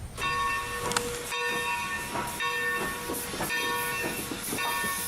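2-8-2 steam locomotive #30 on the Texas State Railroad, moving slowly with rhythmic chuffs and steam hiss under a sustained whistle-like tonal ring, heard from moderate distance.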